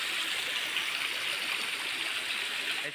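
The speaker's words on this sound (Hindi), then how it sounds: "इसी तरह से पहाड़ी में से हमेशा यहाँ पानी आता रहता है।" A mountain stream at Baiju Baba in Sonbhadra flows constantly down from the hills, making a continuous broad rushing and gurgling wash with no voices over it.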